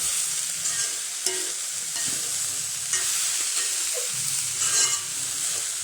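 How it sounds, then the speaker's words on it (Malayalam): Vegetable thoran stir fry with grated coconut, turmeric and green chili being stirred in a pan, a steady sizzling hiss with scraping stirs and occasional soft clinks of the spoon against the pan. "ഞാനിപ്പം ഇതാ നമ്മുടെ തേങ്ങ പീര മഞ്ഞപ്പൊടി പച്ചമുളക് ഇതെല്ലാം കൂടെ അങ്ങ് ചേർത്ത് കൊടുക്കുവാണേ നല്ലപോലെ ഇളക്കി കൊടുക്കണം കേട്ടോ"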